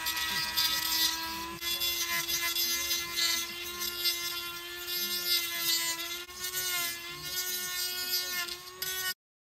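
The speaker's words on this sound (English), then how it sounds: "I turned to the Dremel to smooth everything up" A Dremel rotary tool grinds and smooths the trimmed edge of a plastic bumper during a Jeep JT/JL Rubicon Warn winch bumper install, a steady high-pitched whine that runs loud and close for about nine seconds, then stops abruptly.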